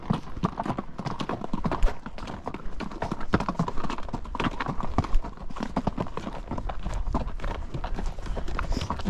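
Horse hooves clip-clop steadily on a technical dirt trail, a dense rhythmic patter of several footfalls that continues close and loud throughout.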